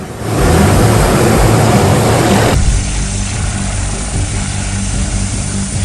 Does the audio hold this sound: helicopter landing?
yes